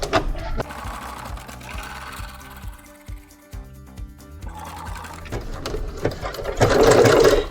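Sewing machine running steadily while stitching elastic onto a circle skirt, the motor whirring in bursts with a brief pause midway and a louder run near the end.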